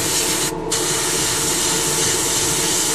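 Airbrush spraying overly thin paint at high air pressure while preshading a model command cruiser, a loud, steady, close hiss that dips briefly near the start and then holds constant.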